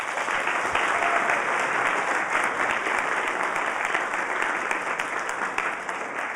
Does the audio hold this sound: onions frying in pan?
no